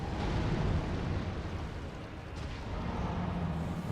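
A fiery area attack erupts in Elden Ring as a dense, loud, roaring wash of fire that fills the whole stretch, swelling and easing slightly without clear breaks.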